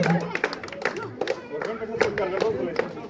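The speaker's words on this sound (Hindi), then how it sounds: "तालियों की गूंज जो है बिल्कुल झारखंड तक सुनाई देना चाहिए" An audience at a teachers' conclave in Darchik, Kargil claps in sharp, scattered bursts. The claps are close and irregular, mixed with crowd noise, while a voice keeps talking throughout.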